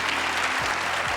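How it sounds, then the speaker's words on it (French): Audience applause during a French-language Lac-Mégantic television program, a dense, steady wash of many clapping hands that fills the whole short stretch at full strength, with a couple of low thumps underneath. "on peut l'applaudir."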